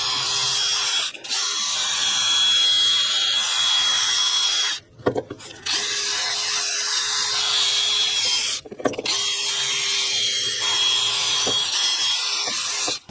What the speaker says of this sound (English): We're gonna just hit that with a little wire brush on a drill.